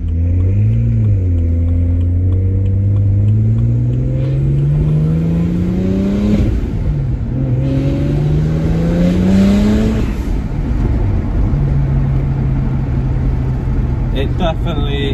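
BMW N54 car with a newly installed twin-plate organic clutch, engine revving up repeatedly through rising and falling pitch sweeps, loud and close inside the cabin, with someone talking over it.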